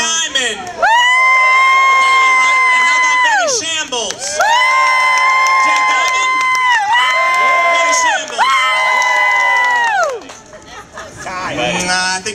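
A Hollywood comedy-night crowd erupts in loud, sustained cheers and whoops in several long swells separated by short dips, voices blending into a roaring chorus of approval.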